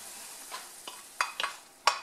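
Carbonara ingredients fry quietly in a wiped skillet while a utensil scrapes and stirs, giving a few soft, irregular scraping taps over a faint sizzle.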